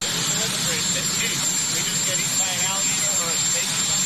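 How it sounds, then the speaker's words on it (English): The rotors of the Marine One helicopter make a loud, constant whooshing roar that fills the scene without a break, with voices faintly audible beneath it. "those rotors on that helicopter drive me nuts"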